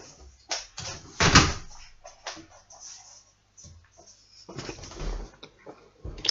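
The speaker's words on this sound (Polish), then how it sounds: "Tylko ja sobie w tym czasie zamknę okno i drzwi od pokoju" A room window and then the room door being closed indoors, with several knocks, thuds and rattles of handles and frames, close and moderately loud, separated by short quiet gaps, ending with a firm shutting bump.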